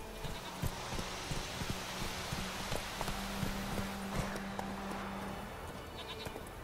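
Roach, Geralt's horse in The Witcher 3, trots with a steady clip-clop of hooves against a continuous outdoor background, the hoofbeats near and moderately loud.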